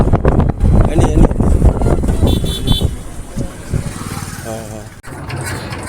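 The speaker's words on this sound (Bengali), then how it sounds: "ট্রলার স্টার্ট দিচ্ছেন ট্রলার ম্যান" A trawler boat engine sputters and roars into life, loud and close, while people talk over it and a horn toots briefly.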